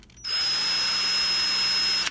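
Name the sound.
drilling off a rivet head with a high-speed drill bit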